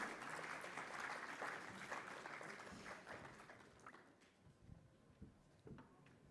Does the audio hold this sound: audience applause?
yes